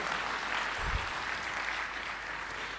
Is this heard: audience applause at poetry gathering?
yes